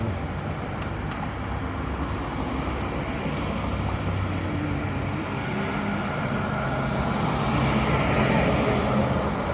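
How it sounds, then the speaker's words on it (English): Continuous roar of busy street traffic on a city road, heard while walking, a steady dense rumble of passing vehicles with no clear pauses. "Roby is a very busy street and noisy from traffic"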